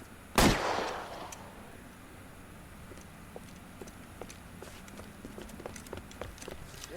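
One loud, close gunshot rings out in the L.A. Noire shootout and fades, followed by scattered sharp reports and footstep-like clicks at a lower level.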